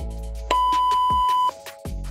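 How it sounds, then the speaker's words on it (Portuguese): An XPE 1013 Plus ID door intercom gives a single long electronic beep to confirm it has entered programming mode. The tone is steady, clear and loud, lasts about a second, and rings out alone against faint room noise. "Será emitido um bip longo, confirmando que a programação está aberta."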